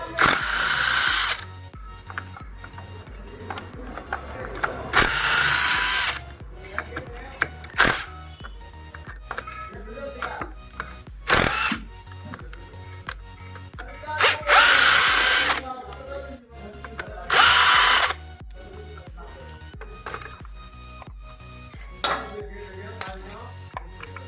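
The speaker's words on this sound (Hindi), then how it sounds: "अब खोलते हैं क्लच वाले पार्ट को। सबसे पहले हमें इन बोल्ट को अलग करना है।" A power tool removing bolts from the clutch housing of a TVS Victor motorcycle, with several loud buzzing bursts of a few seconds each separated by ratcheting clicks and metallic clatter of loose parts, close up.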